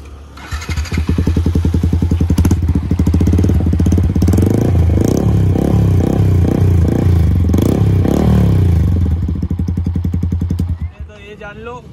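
Yamaha R15M motorcycle with a loud aftermarket exhaust fitted with a dB killer, idling and revving in a steady rumbling burst for about eleven seconds before cutting off.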